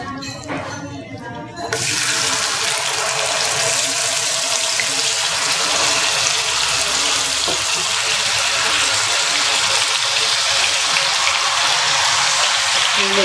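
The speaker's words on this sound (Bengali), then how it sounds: "তেল ঘি গরম হয়ে গেছে, এখন আমি ম্যারিনেট করা মাংসটা ঢেলে দেব।" Marinated chicken hits hot oil and ghee in a pan, bursting into a loud, sustained sizzle and crackle that continues steadily after a brief quieter opening.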